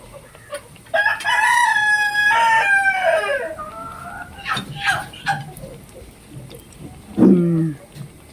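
A rooster crows loudly nearby, a long rising and falling call, followed by a few brief clucks and another short squawk near the end.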